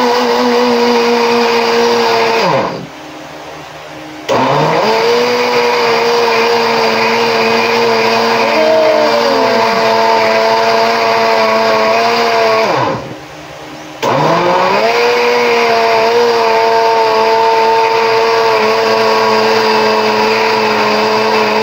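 A blender whirring loudly while blending a mango smoothie, a continuous high motor drone that cuts out twice in short pauses and then restarts.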